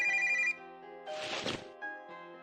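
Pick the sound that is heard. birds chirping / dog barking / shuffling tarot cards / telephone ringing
telephone ringing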